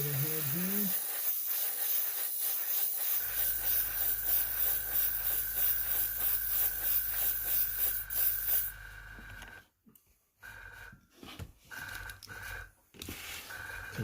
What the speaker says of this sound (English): Compressor having a hissy fit again.